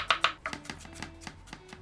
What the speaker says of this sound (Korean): 저도 피클은 조금 다져 넣을게요.